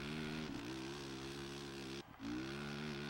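ATV engine in the PS2 game ATV Offroad Fury 2, holding a steady buzzing drone at a fairly constant pitch, faint in the mix, with two brief dips where the revs drop and then climb back.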